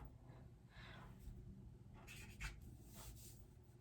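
Strokes are written on a classroom board in soft, quiet bursts of scratching and rubbing, several short marks and then a denser flurry, with no talk over them.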